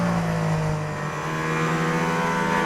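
Mercedes-AMG ONE hypercar under acceleration in a higher drive mode, a steady loud engine drone with rising tonal harmonics filling the cabin, continuous and close throughout.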